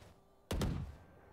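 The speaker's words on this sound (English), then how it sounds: "Reloading." A single dull, mechanical thunk of a weapon being reloaded in the tactical shooter Valorant, short and fairly close, fading quickly into quiet background.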